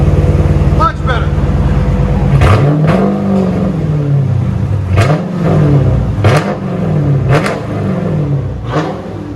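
A 2015 Dodge Charger R/T with a 5.7L HEMI V8 on Flowmaster Super 10 exhausts or straight pipes, revved repeatedly in loud swelling bursts over a deep idle rumble, with voices talking over it.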